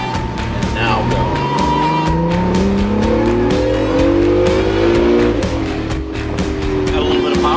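A car accelerating hard on a racetrack under an instructor's guidance, loud and close, its engine note climbing steadily through the revs in one long rising pull, with a hint of tire noise underneath.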